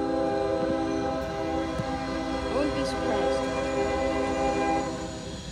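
An intermodal freight train rolls past with a steady, loud rumble and sustained horn tones, the wheels and cars droning continuously throughout.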